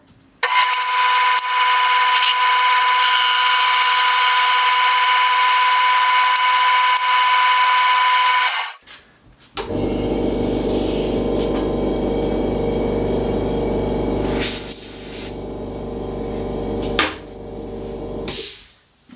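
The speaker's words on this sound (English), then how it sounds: "I'm just going to face the end and put a centre drill in there" A lathe whirs steadily at a high pitch while facing the end of a bar, stops, then restarts with a lower, rougher cutting drone and brief bursts of hiss while centre drilling.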